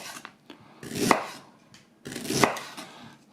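A knife slices through a big knob of unpeeled ginger on a cutting board, two close, distinct cuts with a short pause between them and no talking.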